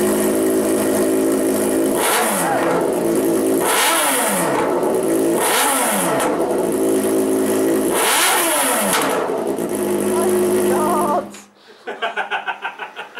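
A car engine with a newly fitted exhaust revved hard five times in a row, each rise and fall loud and close, before cutting out and then sputtering back.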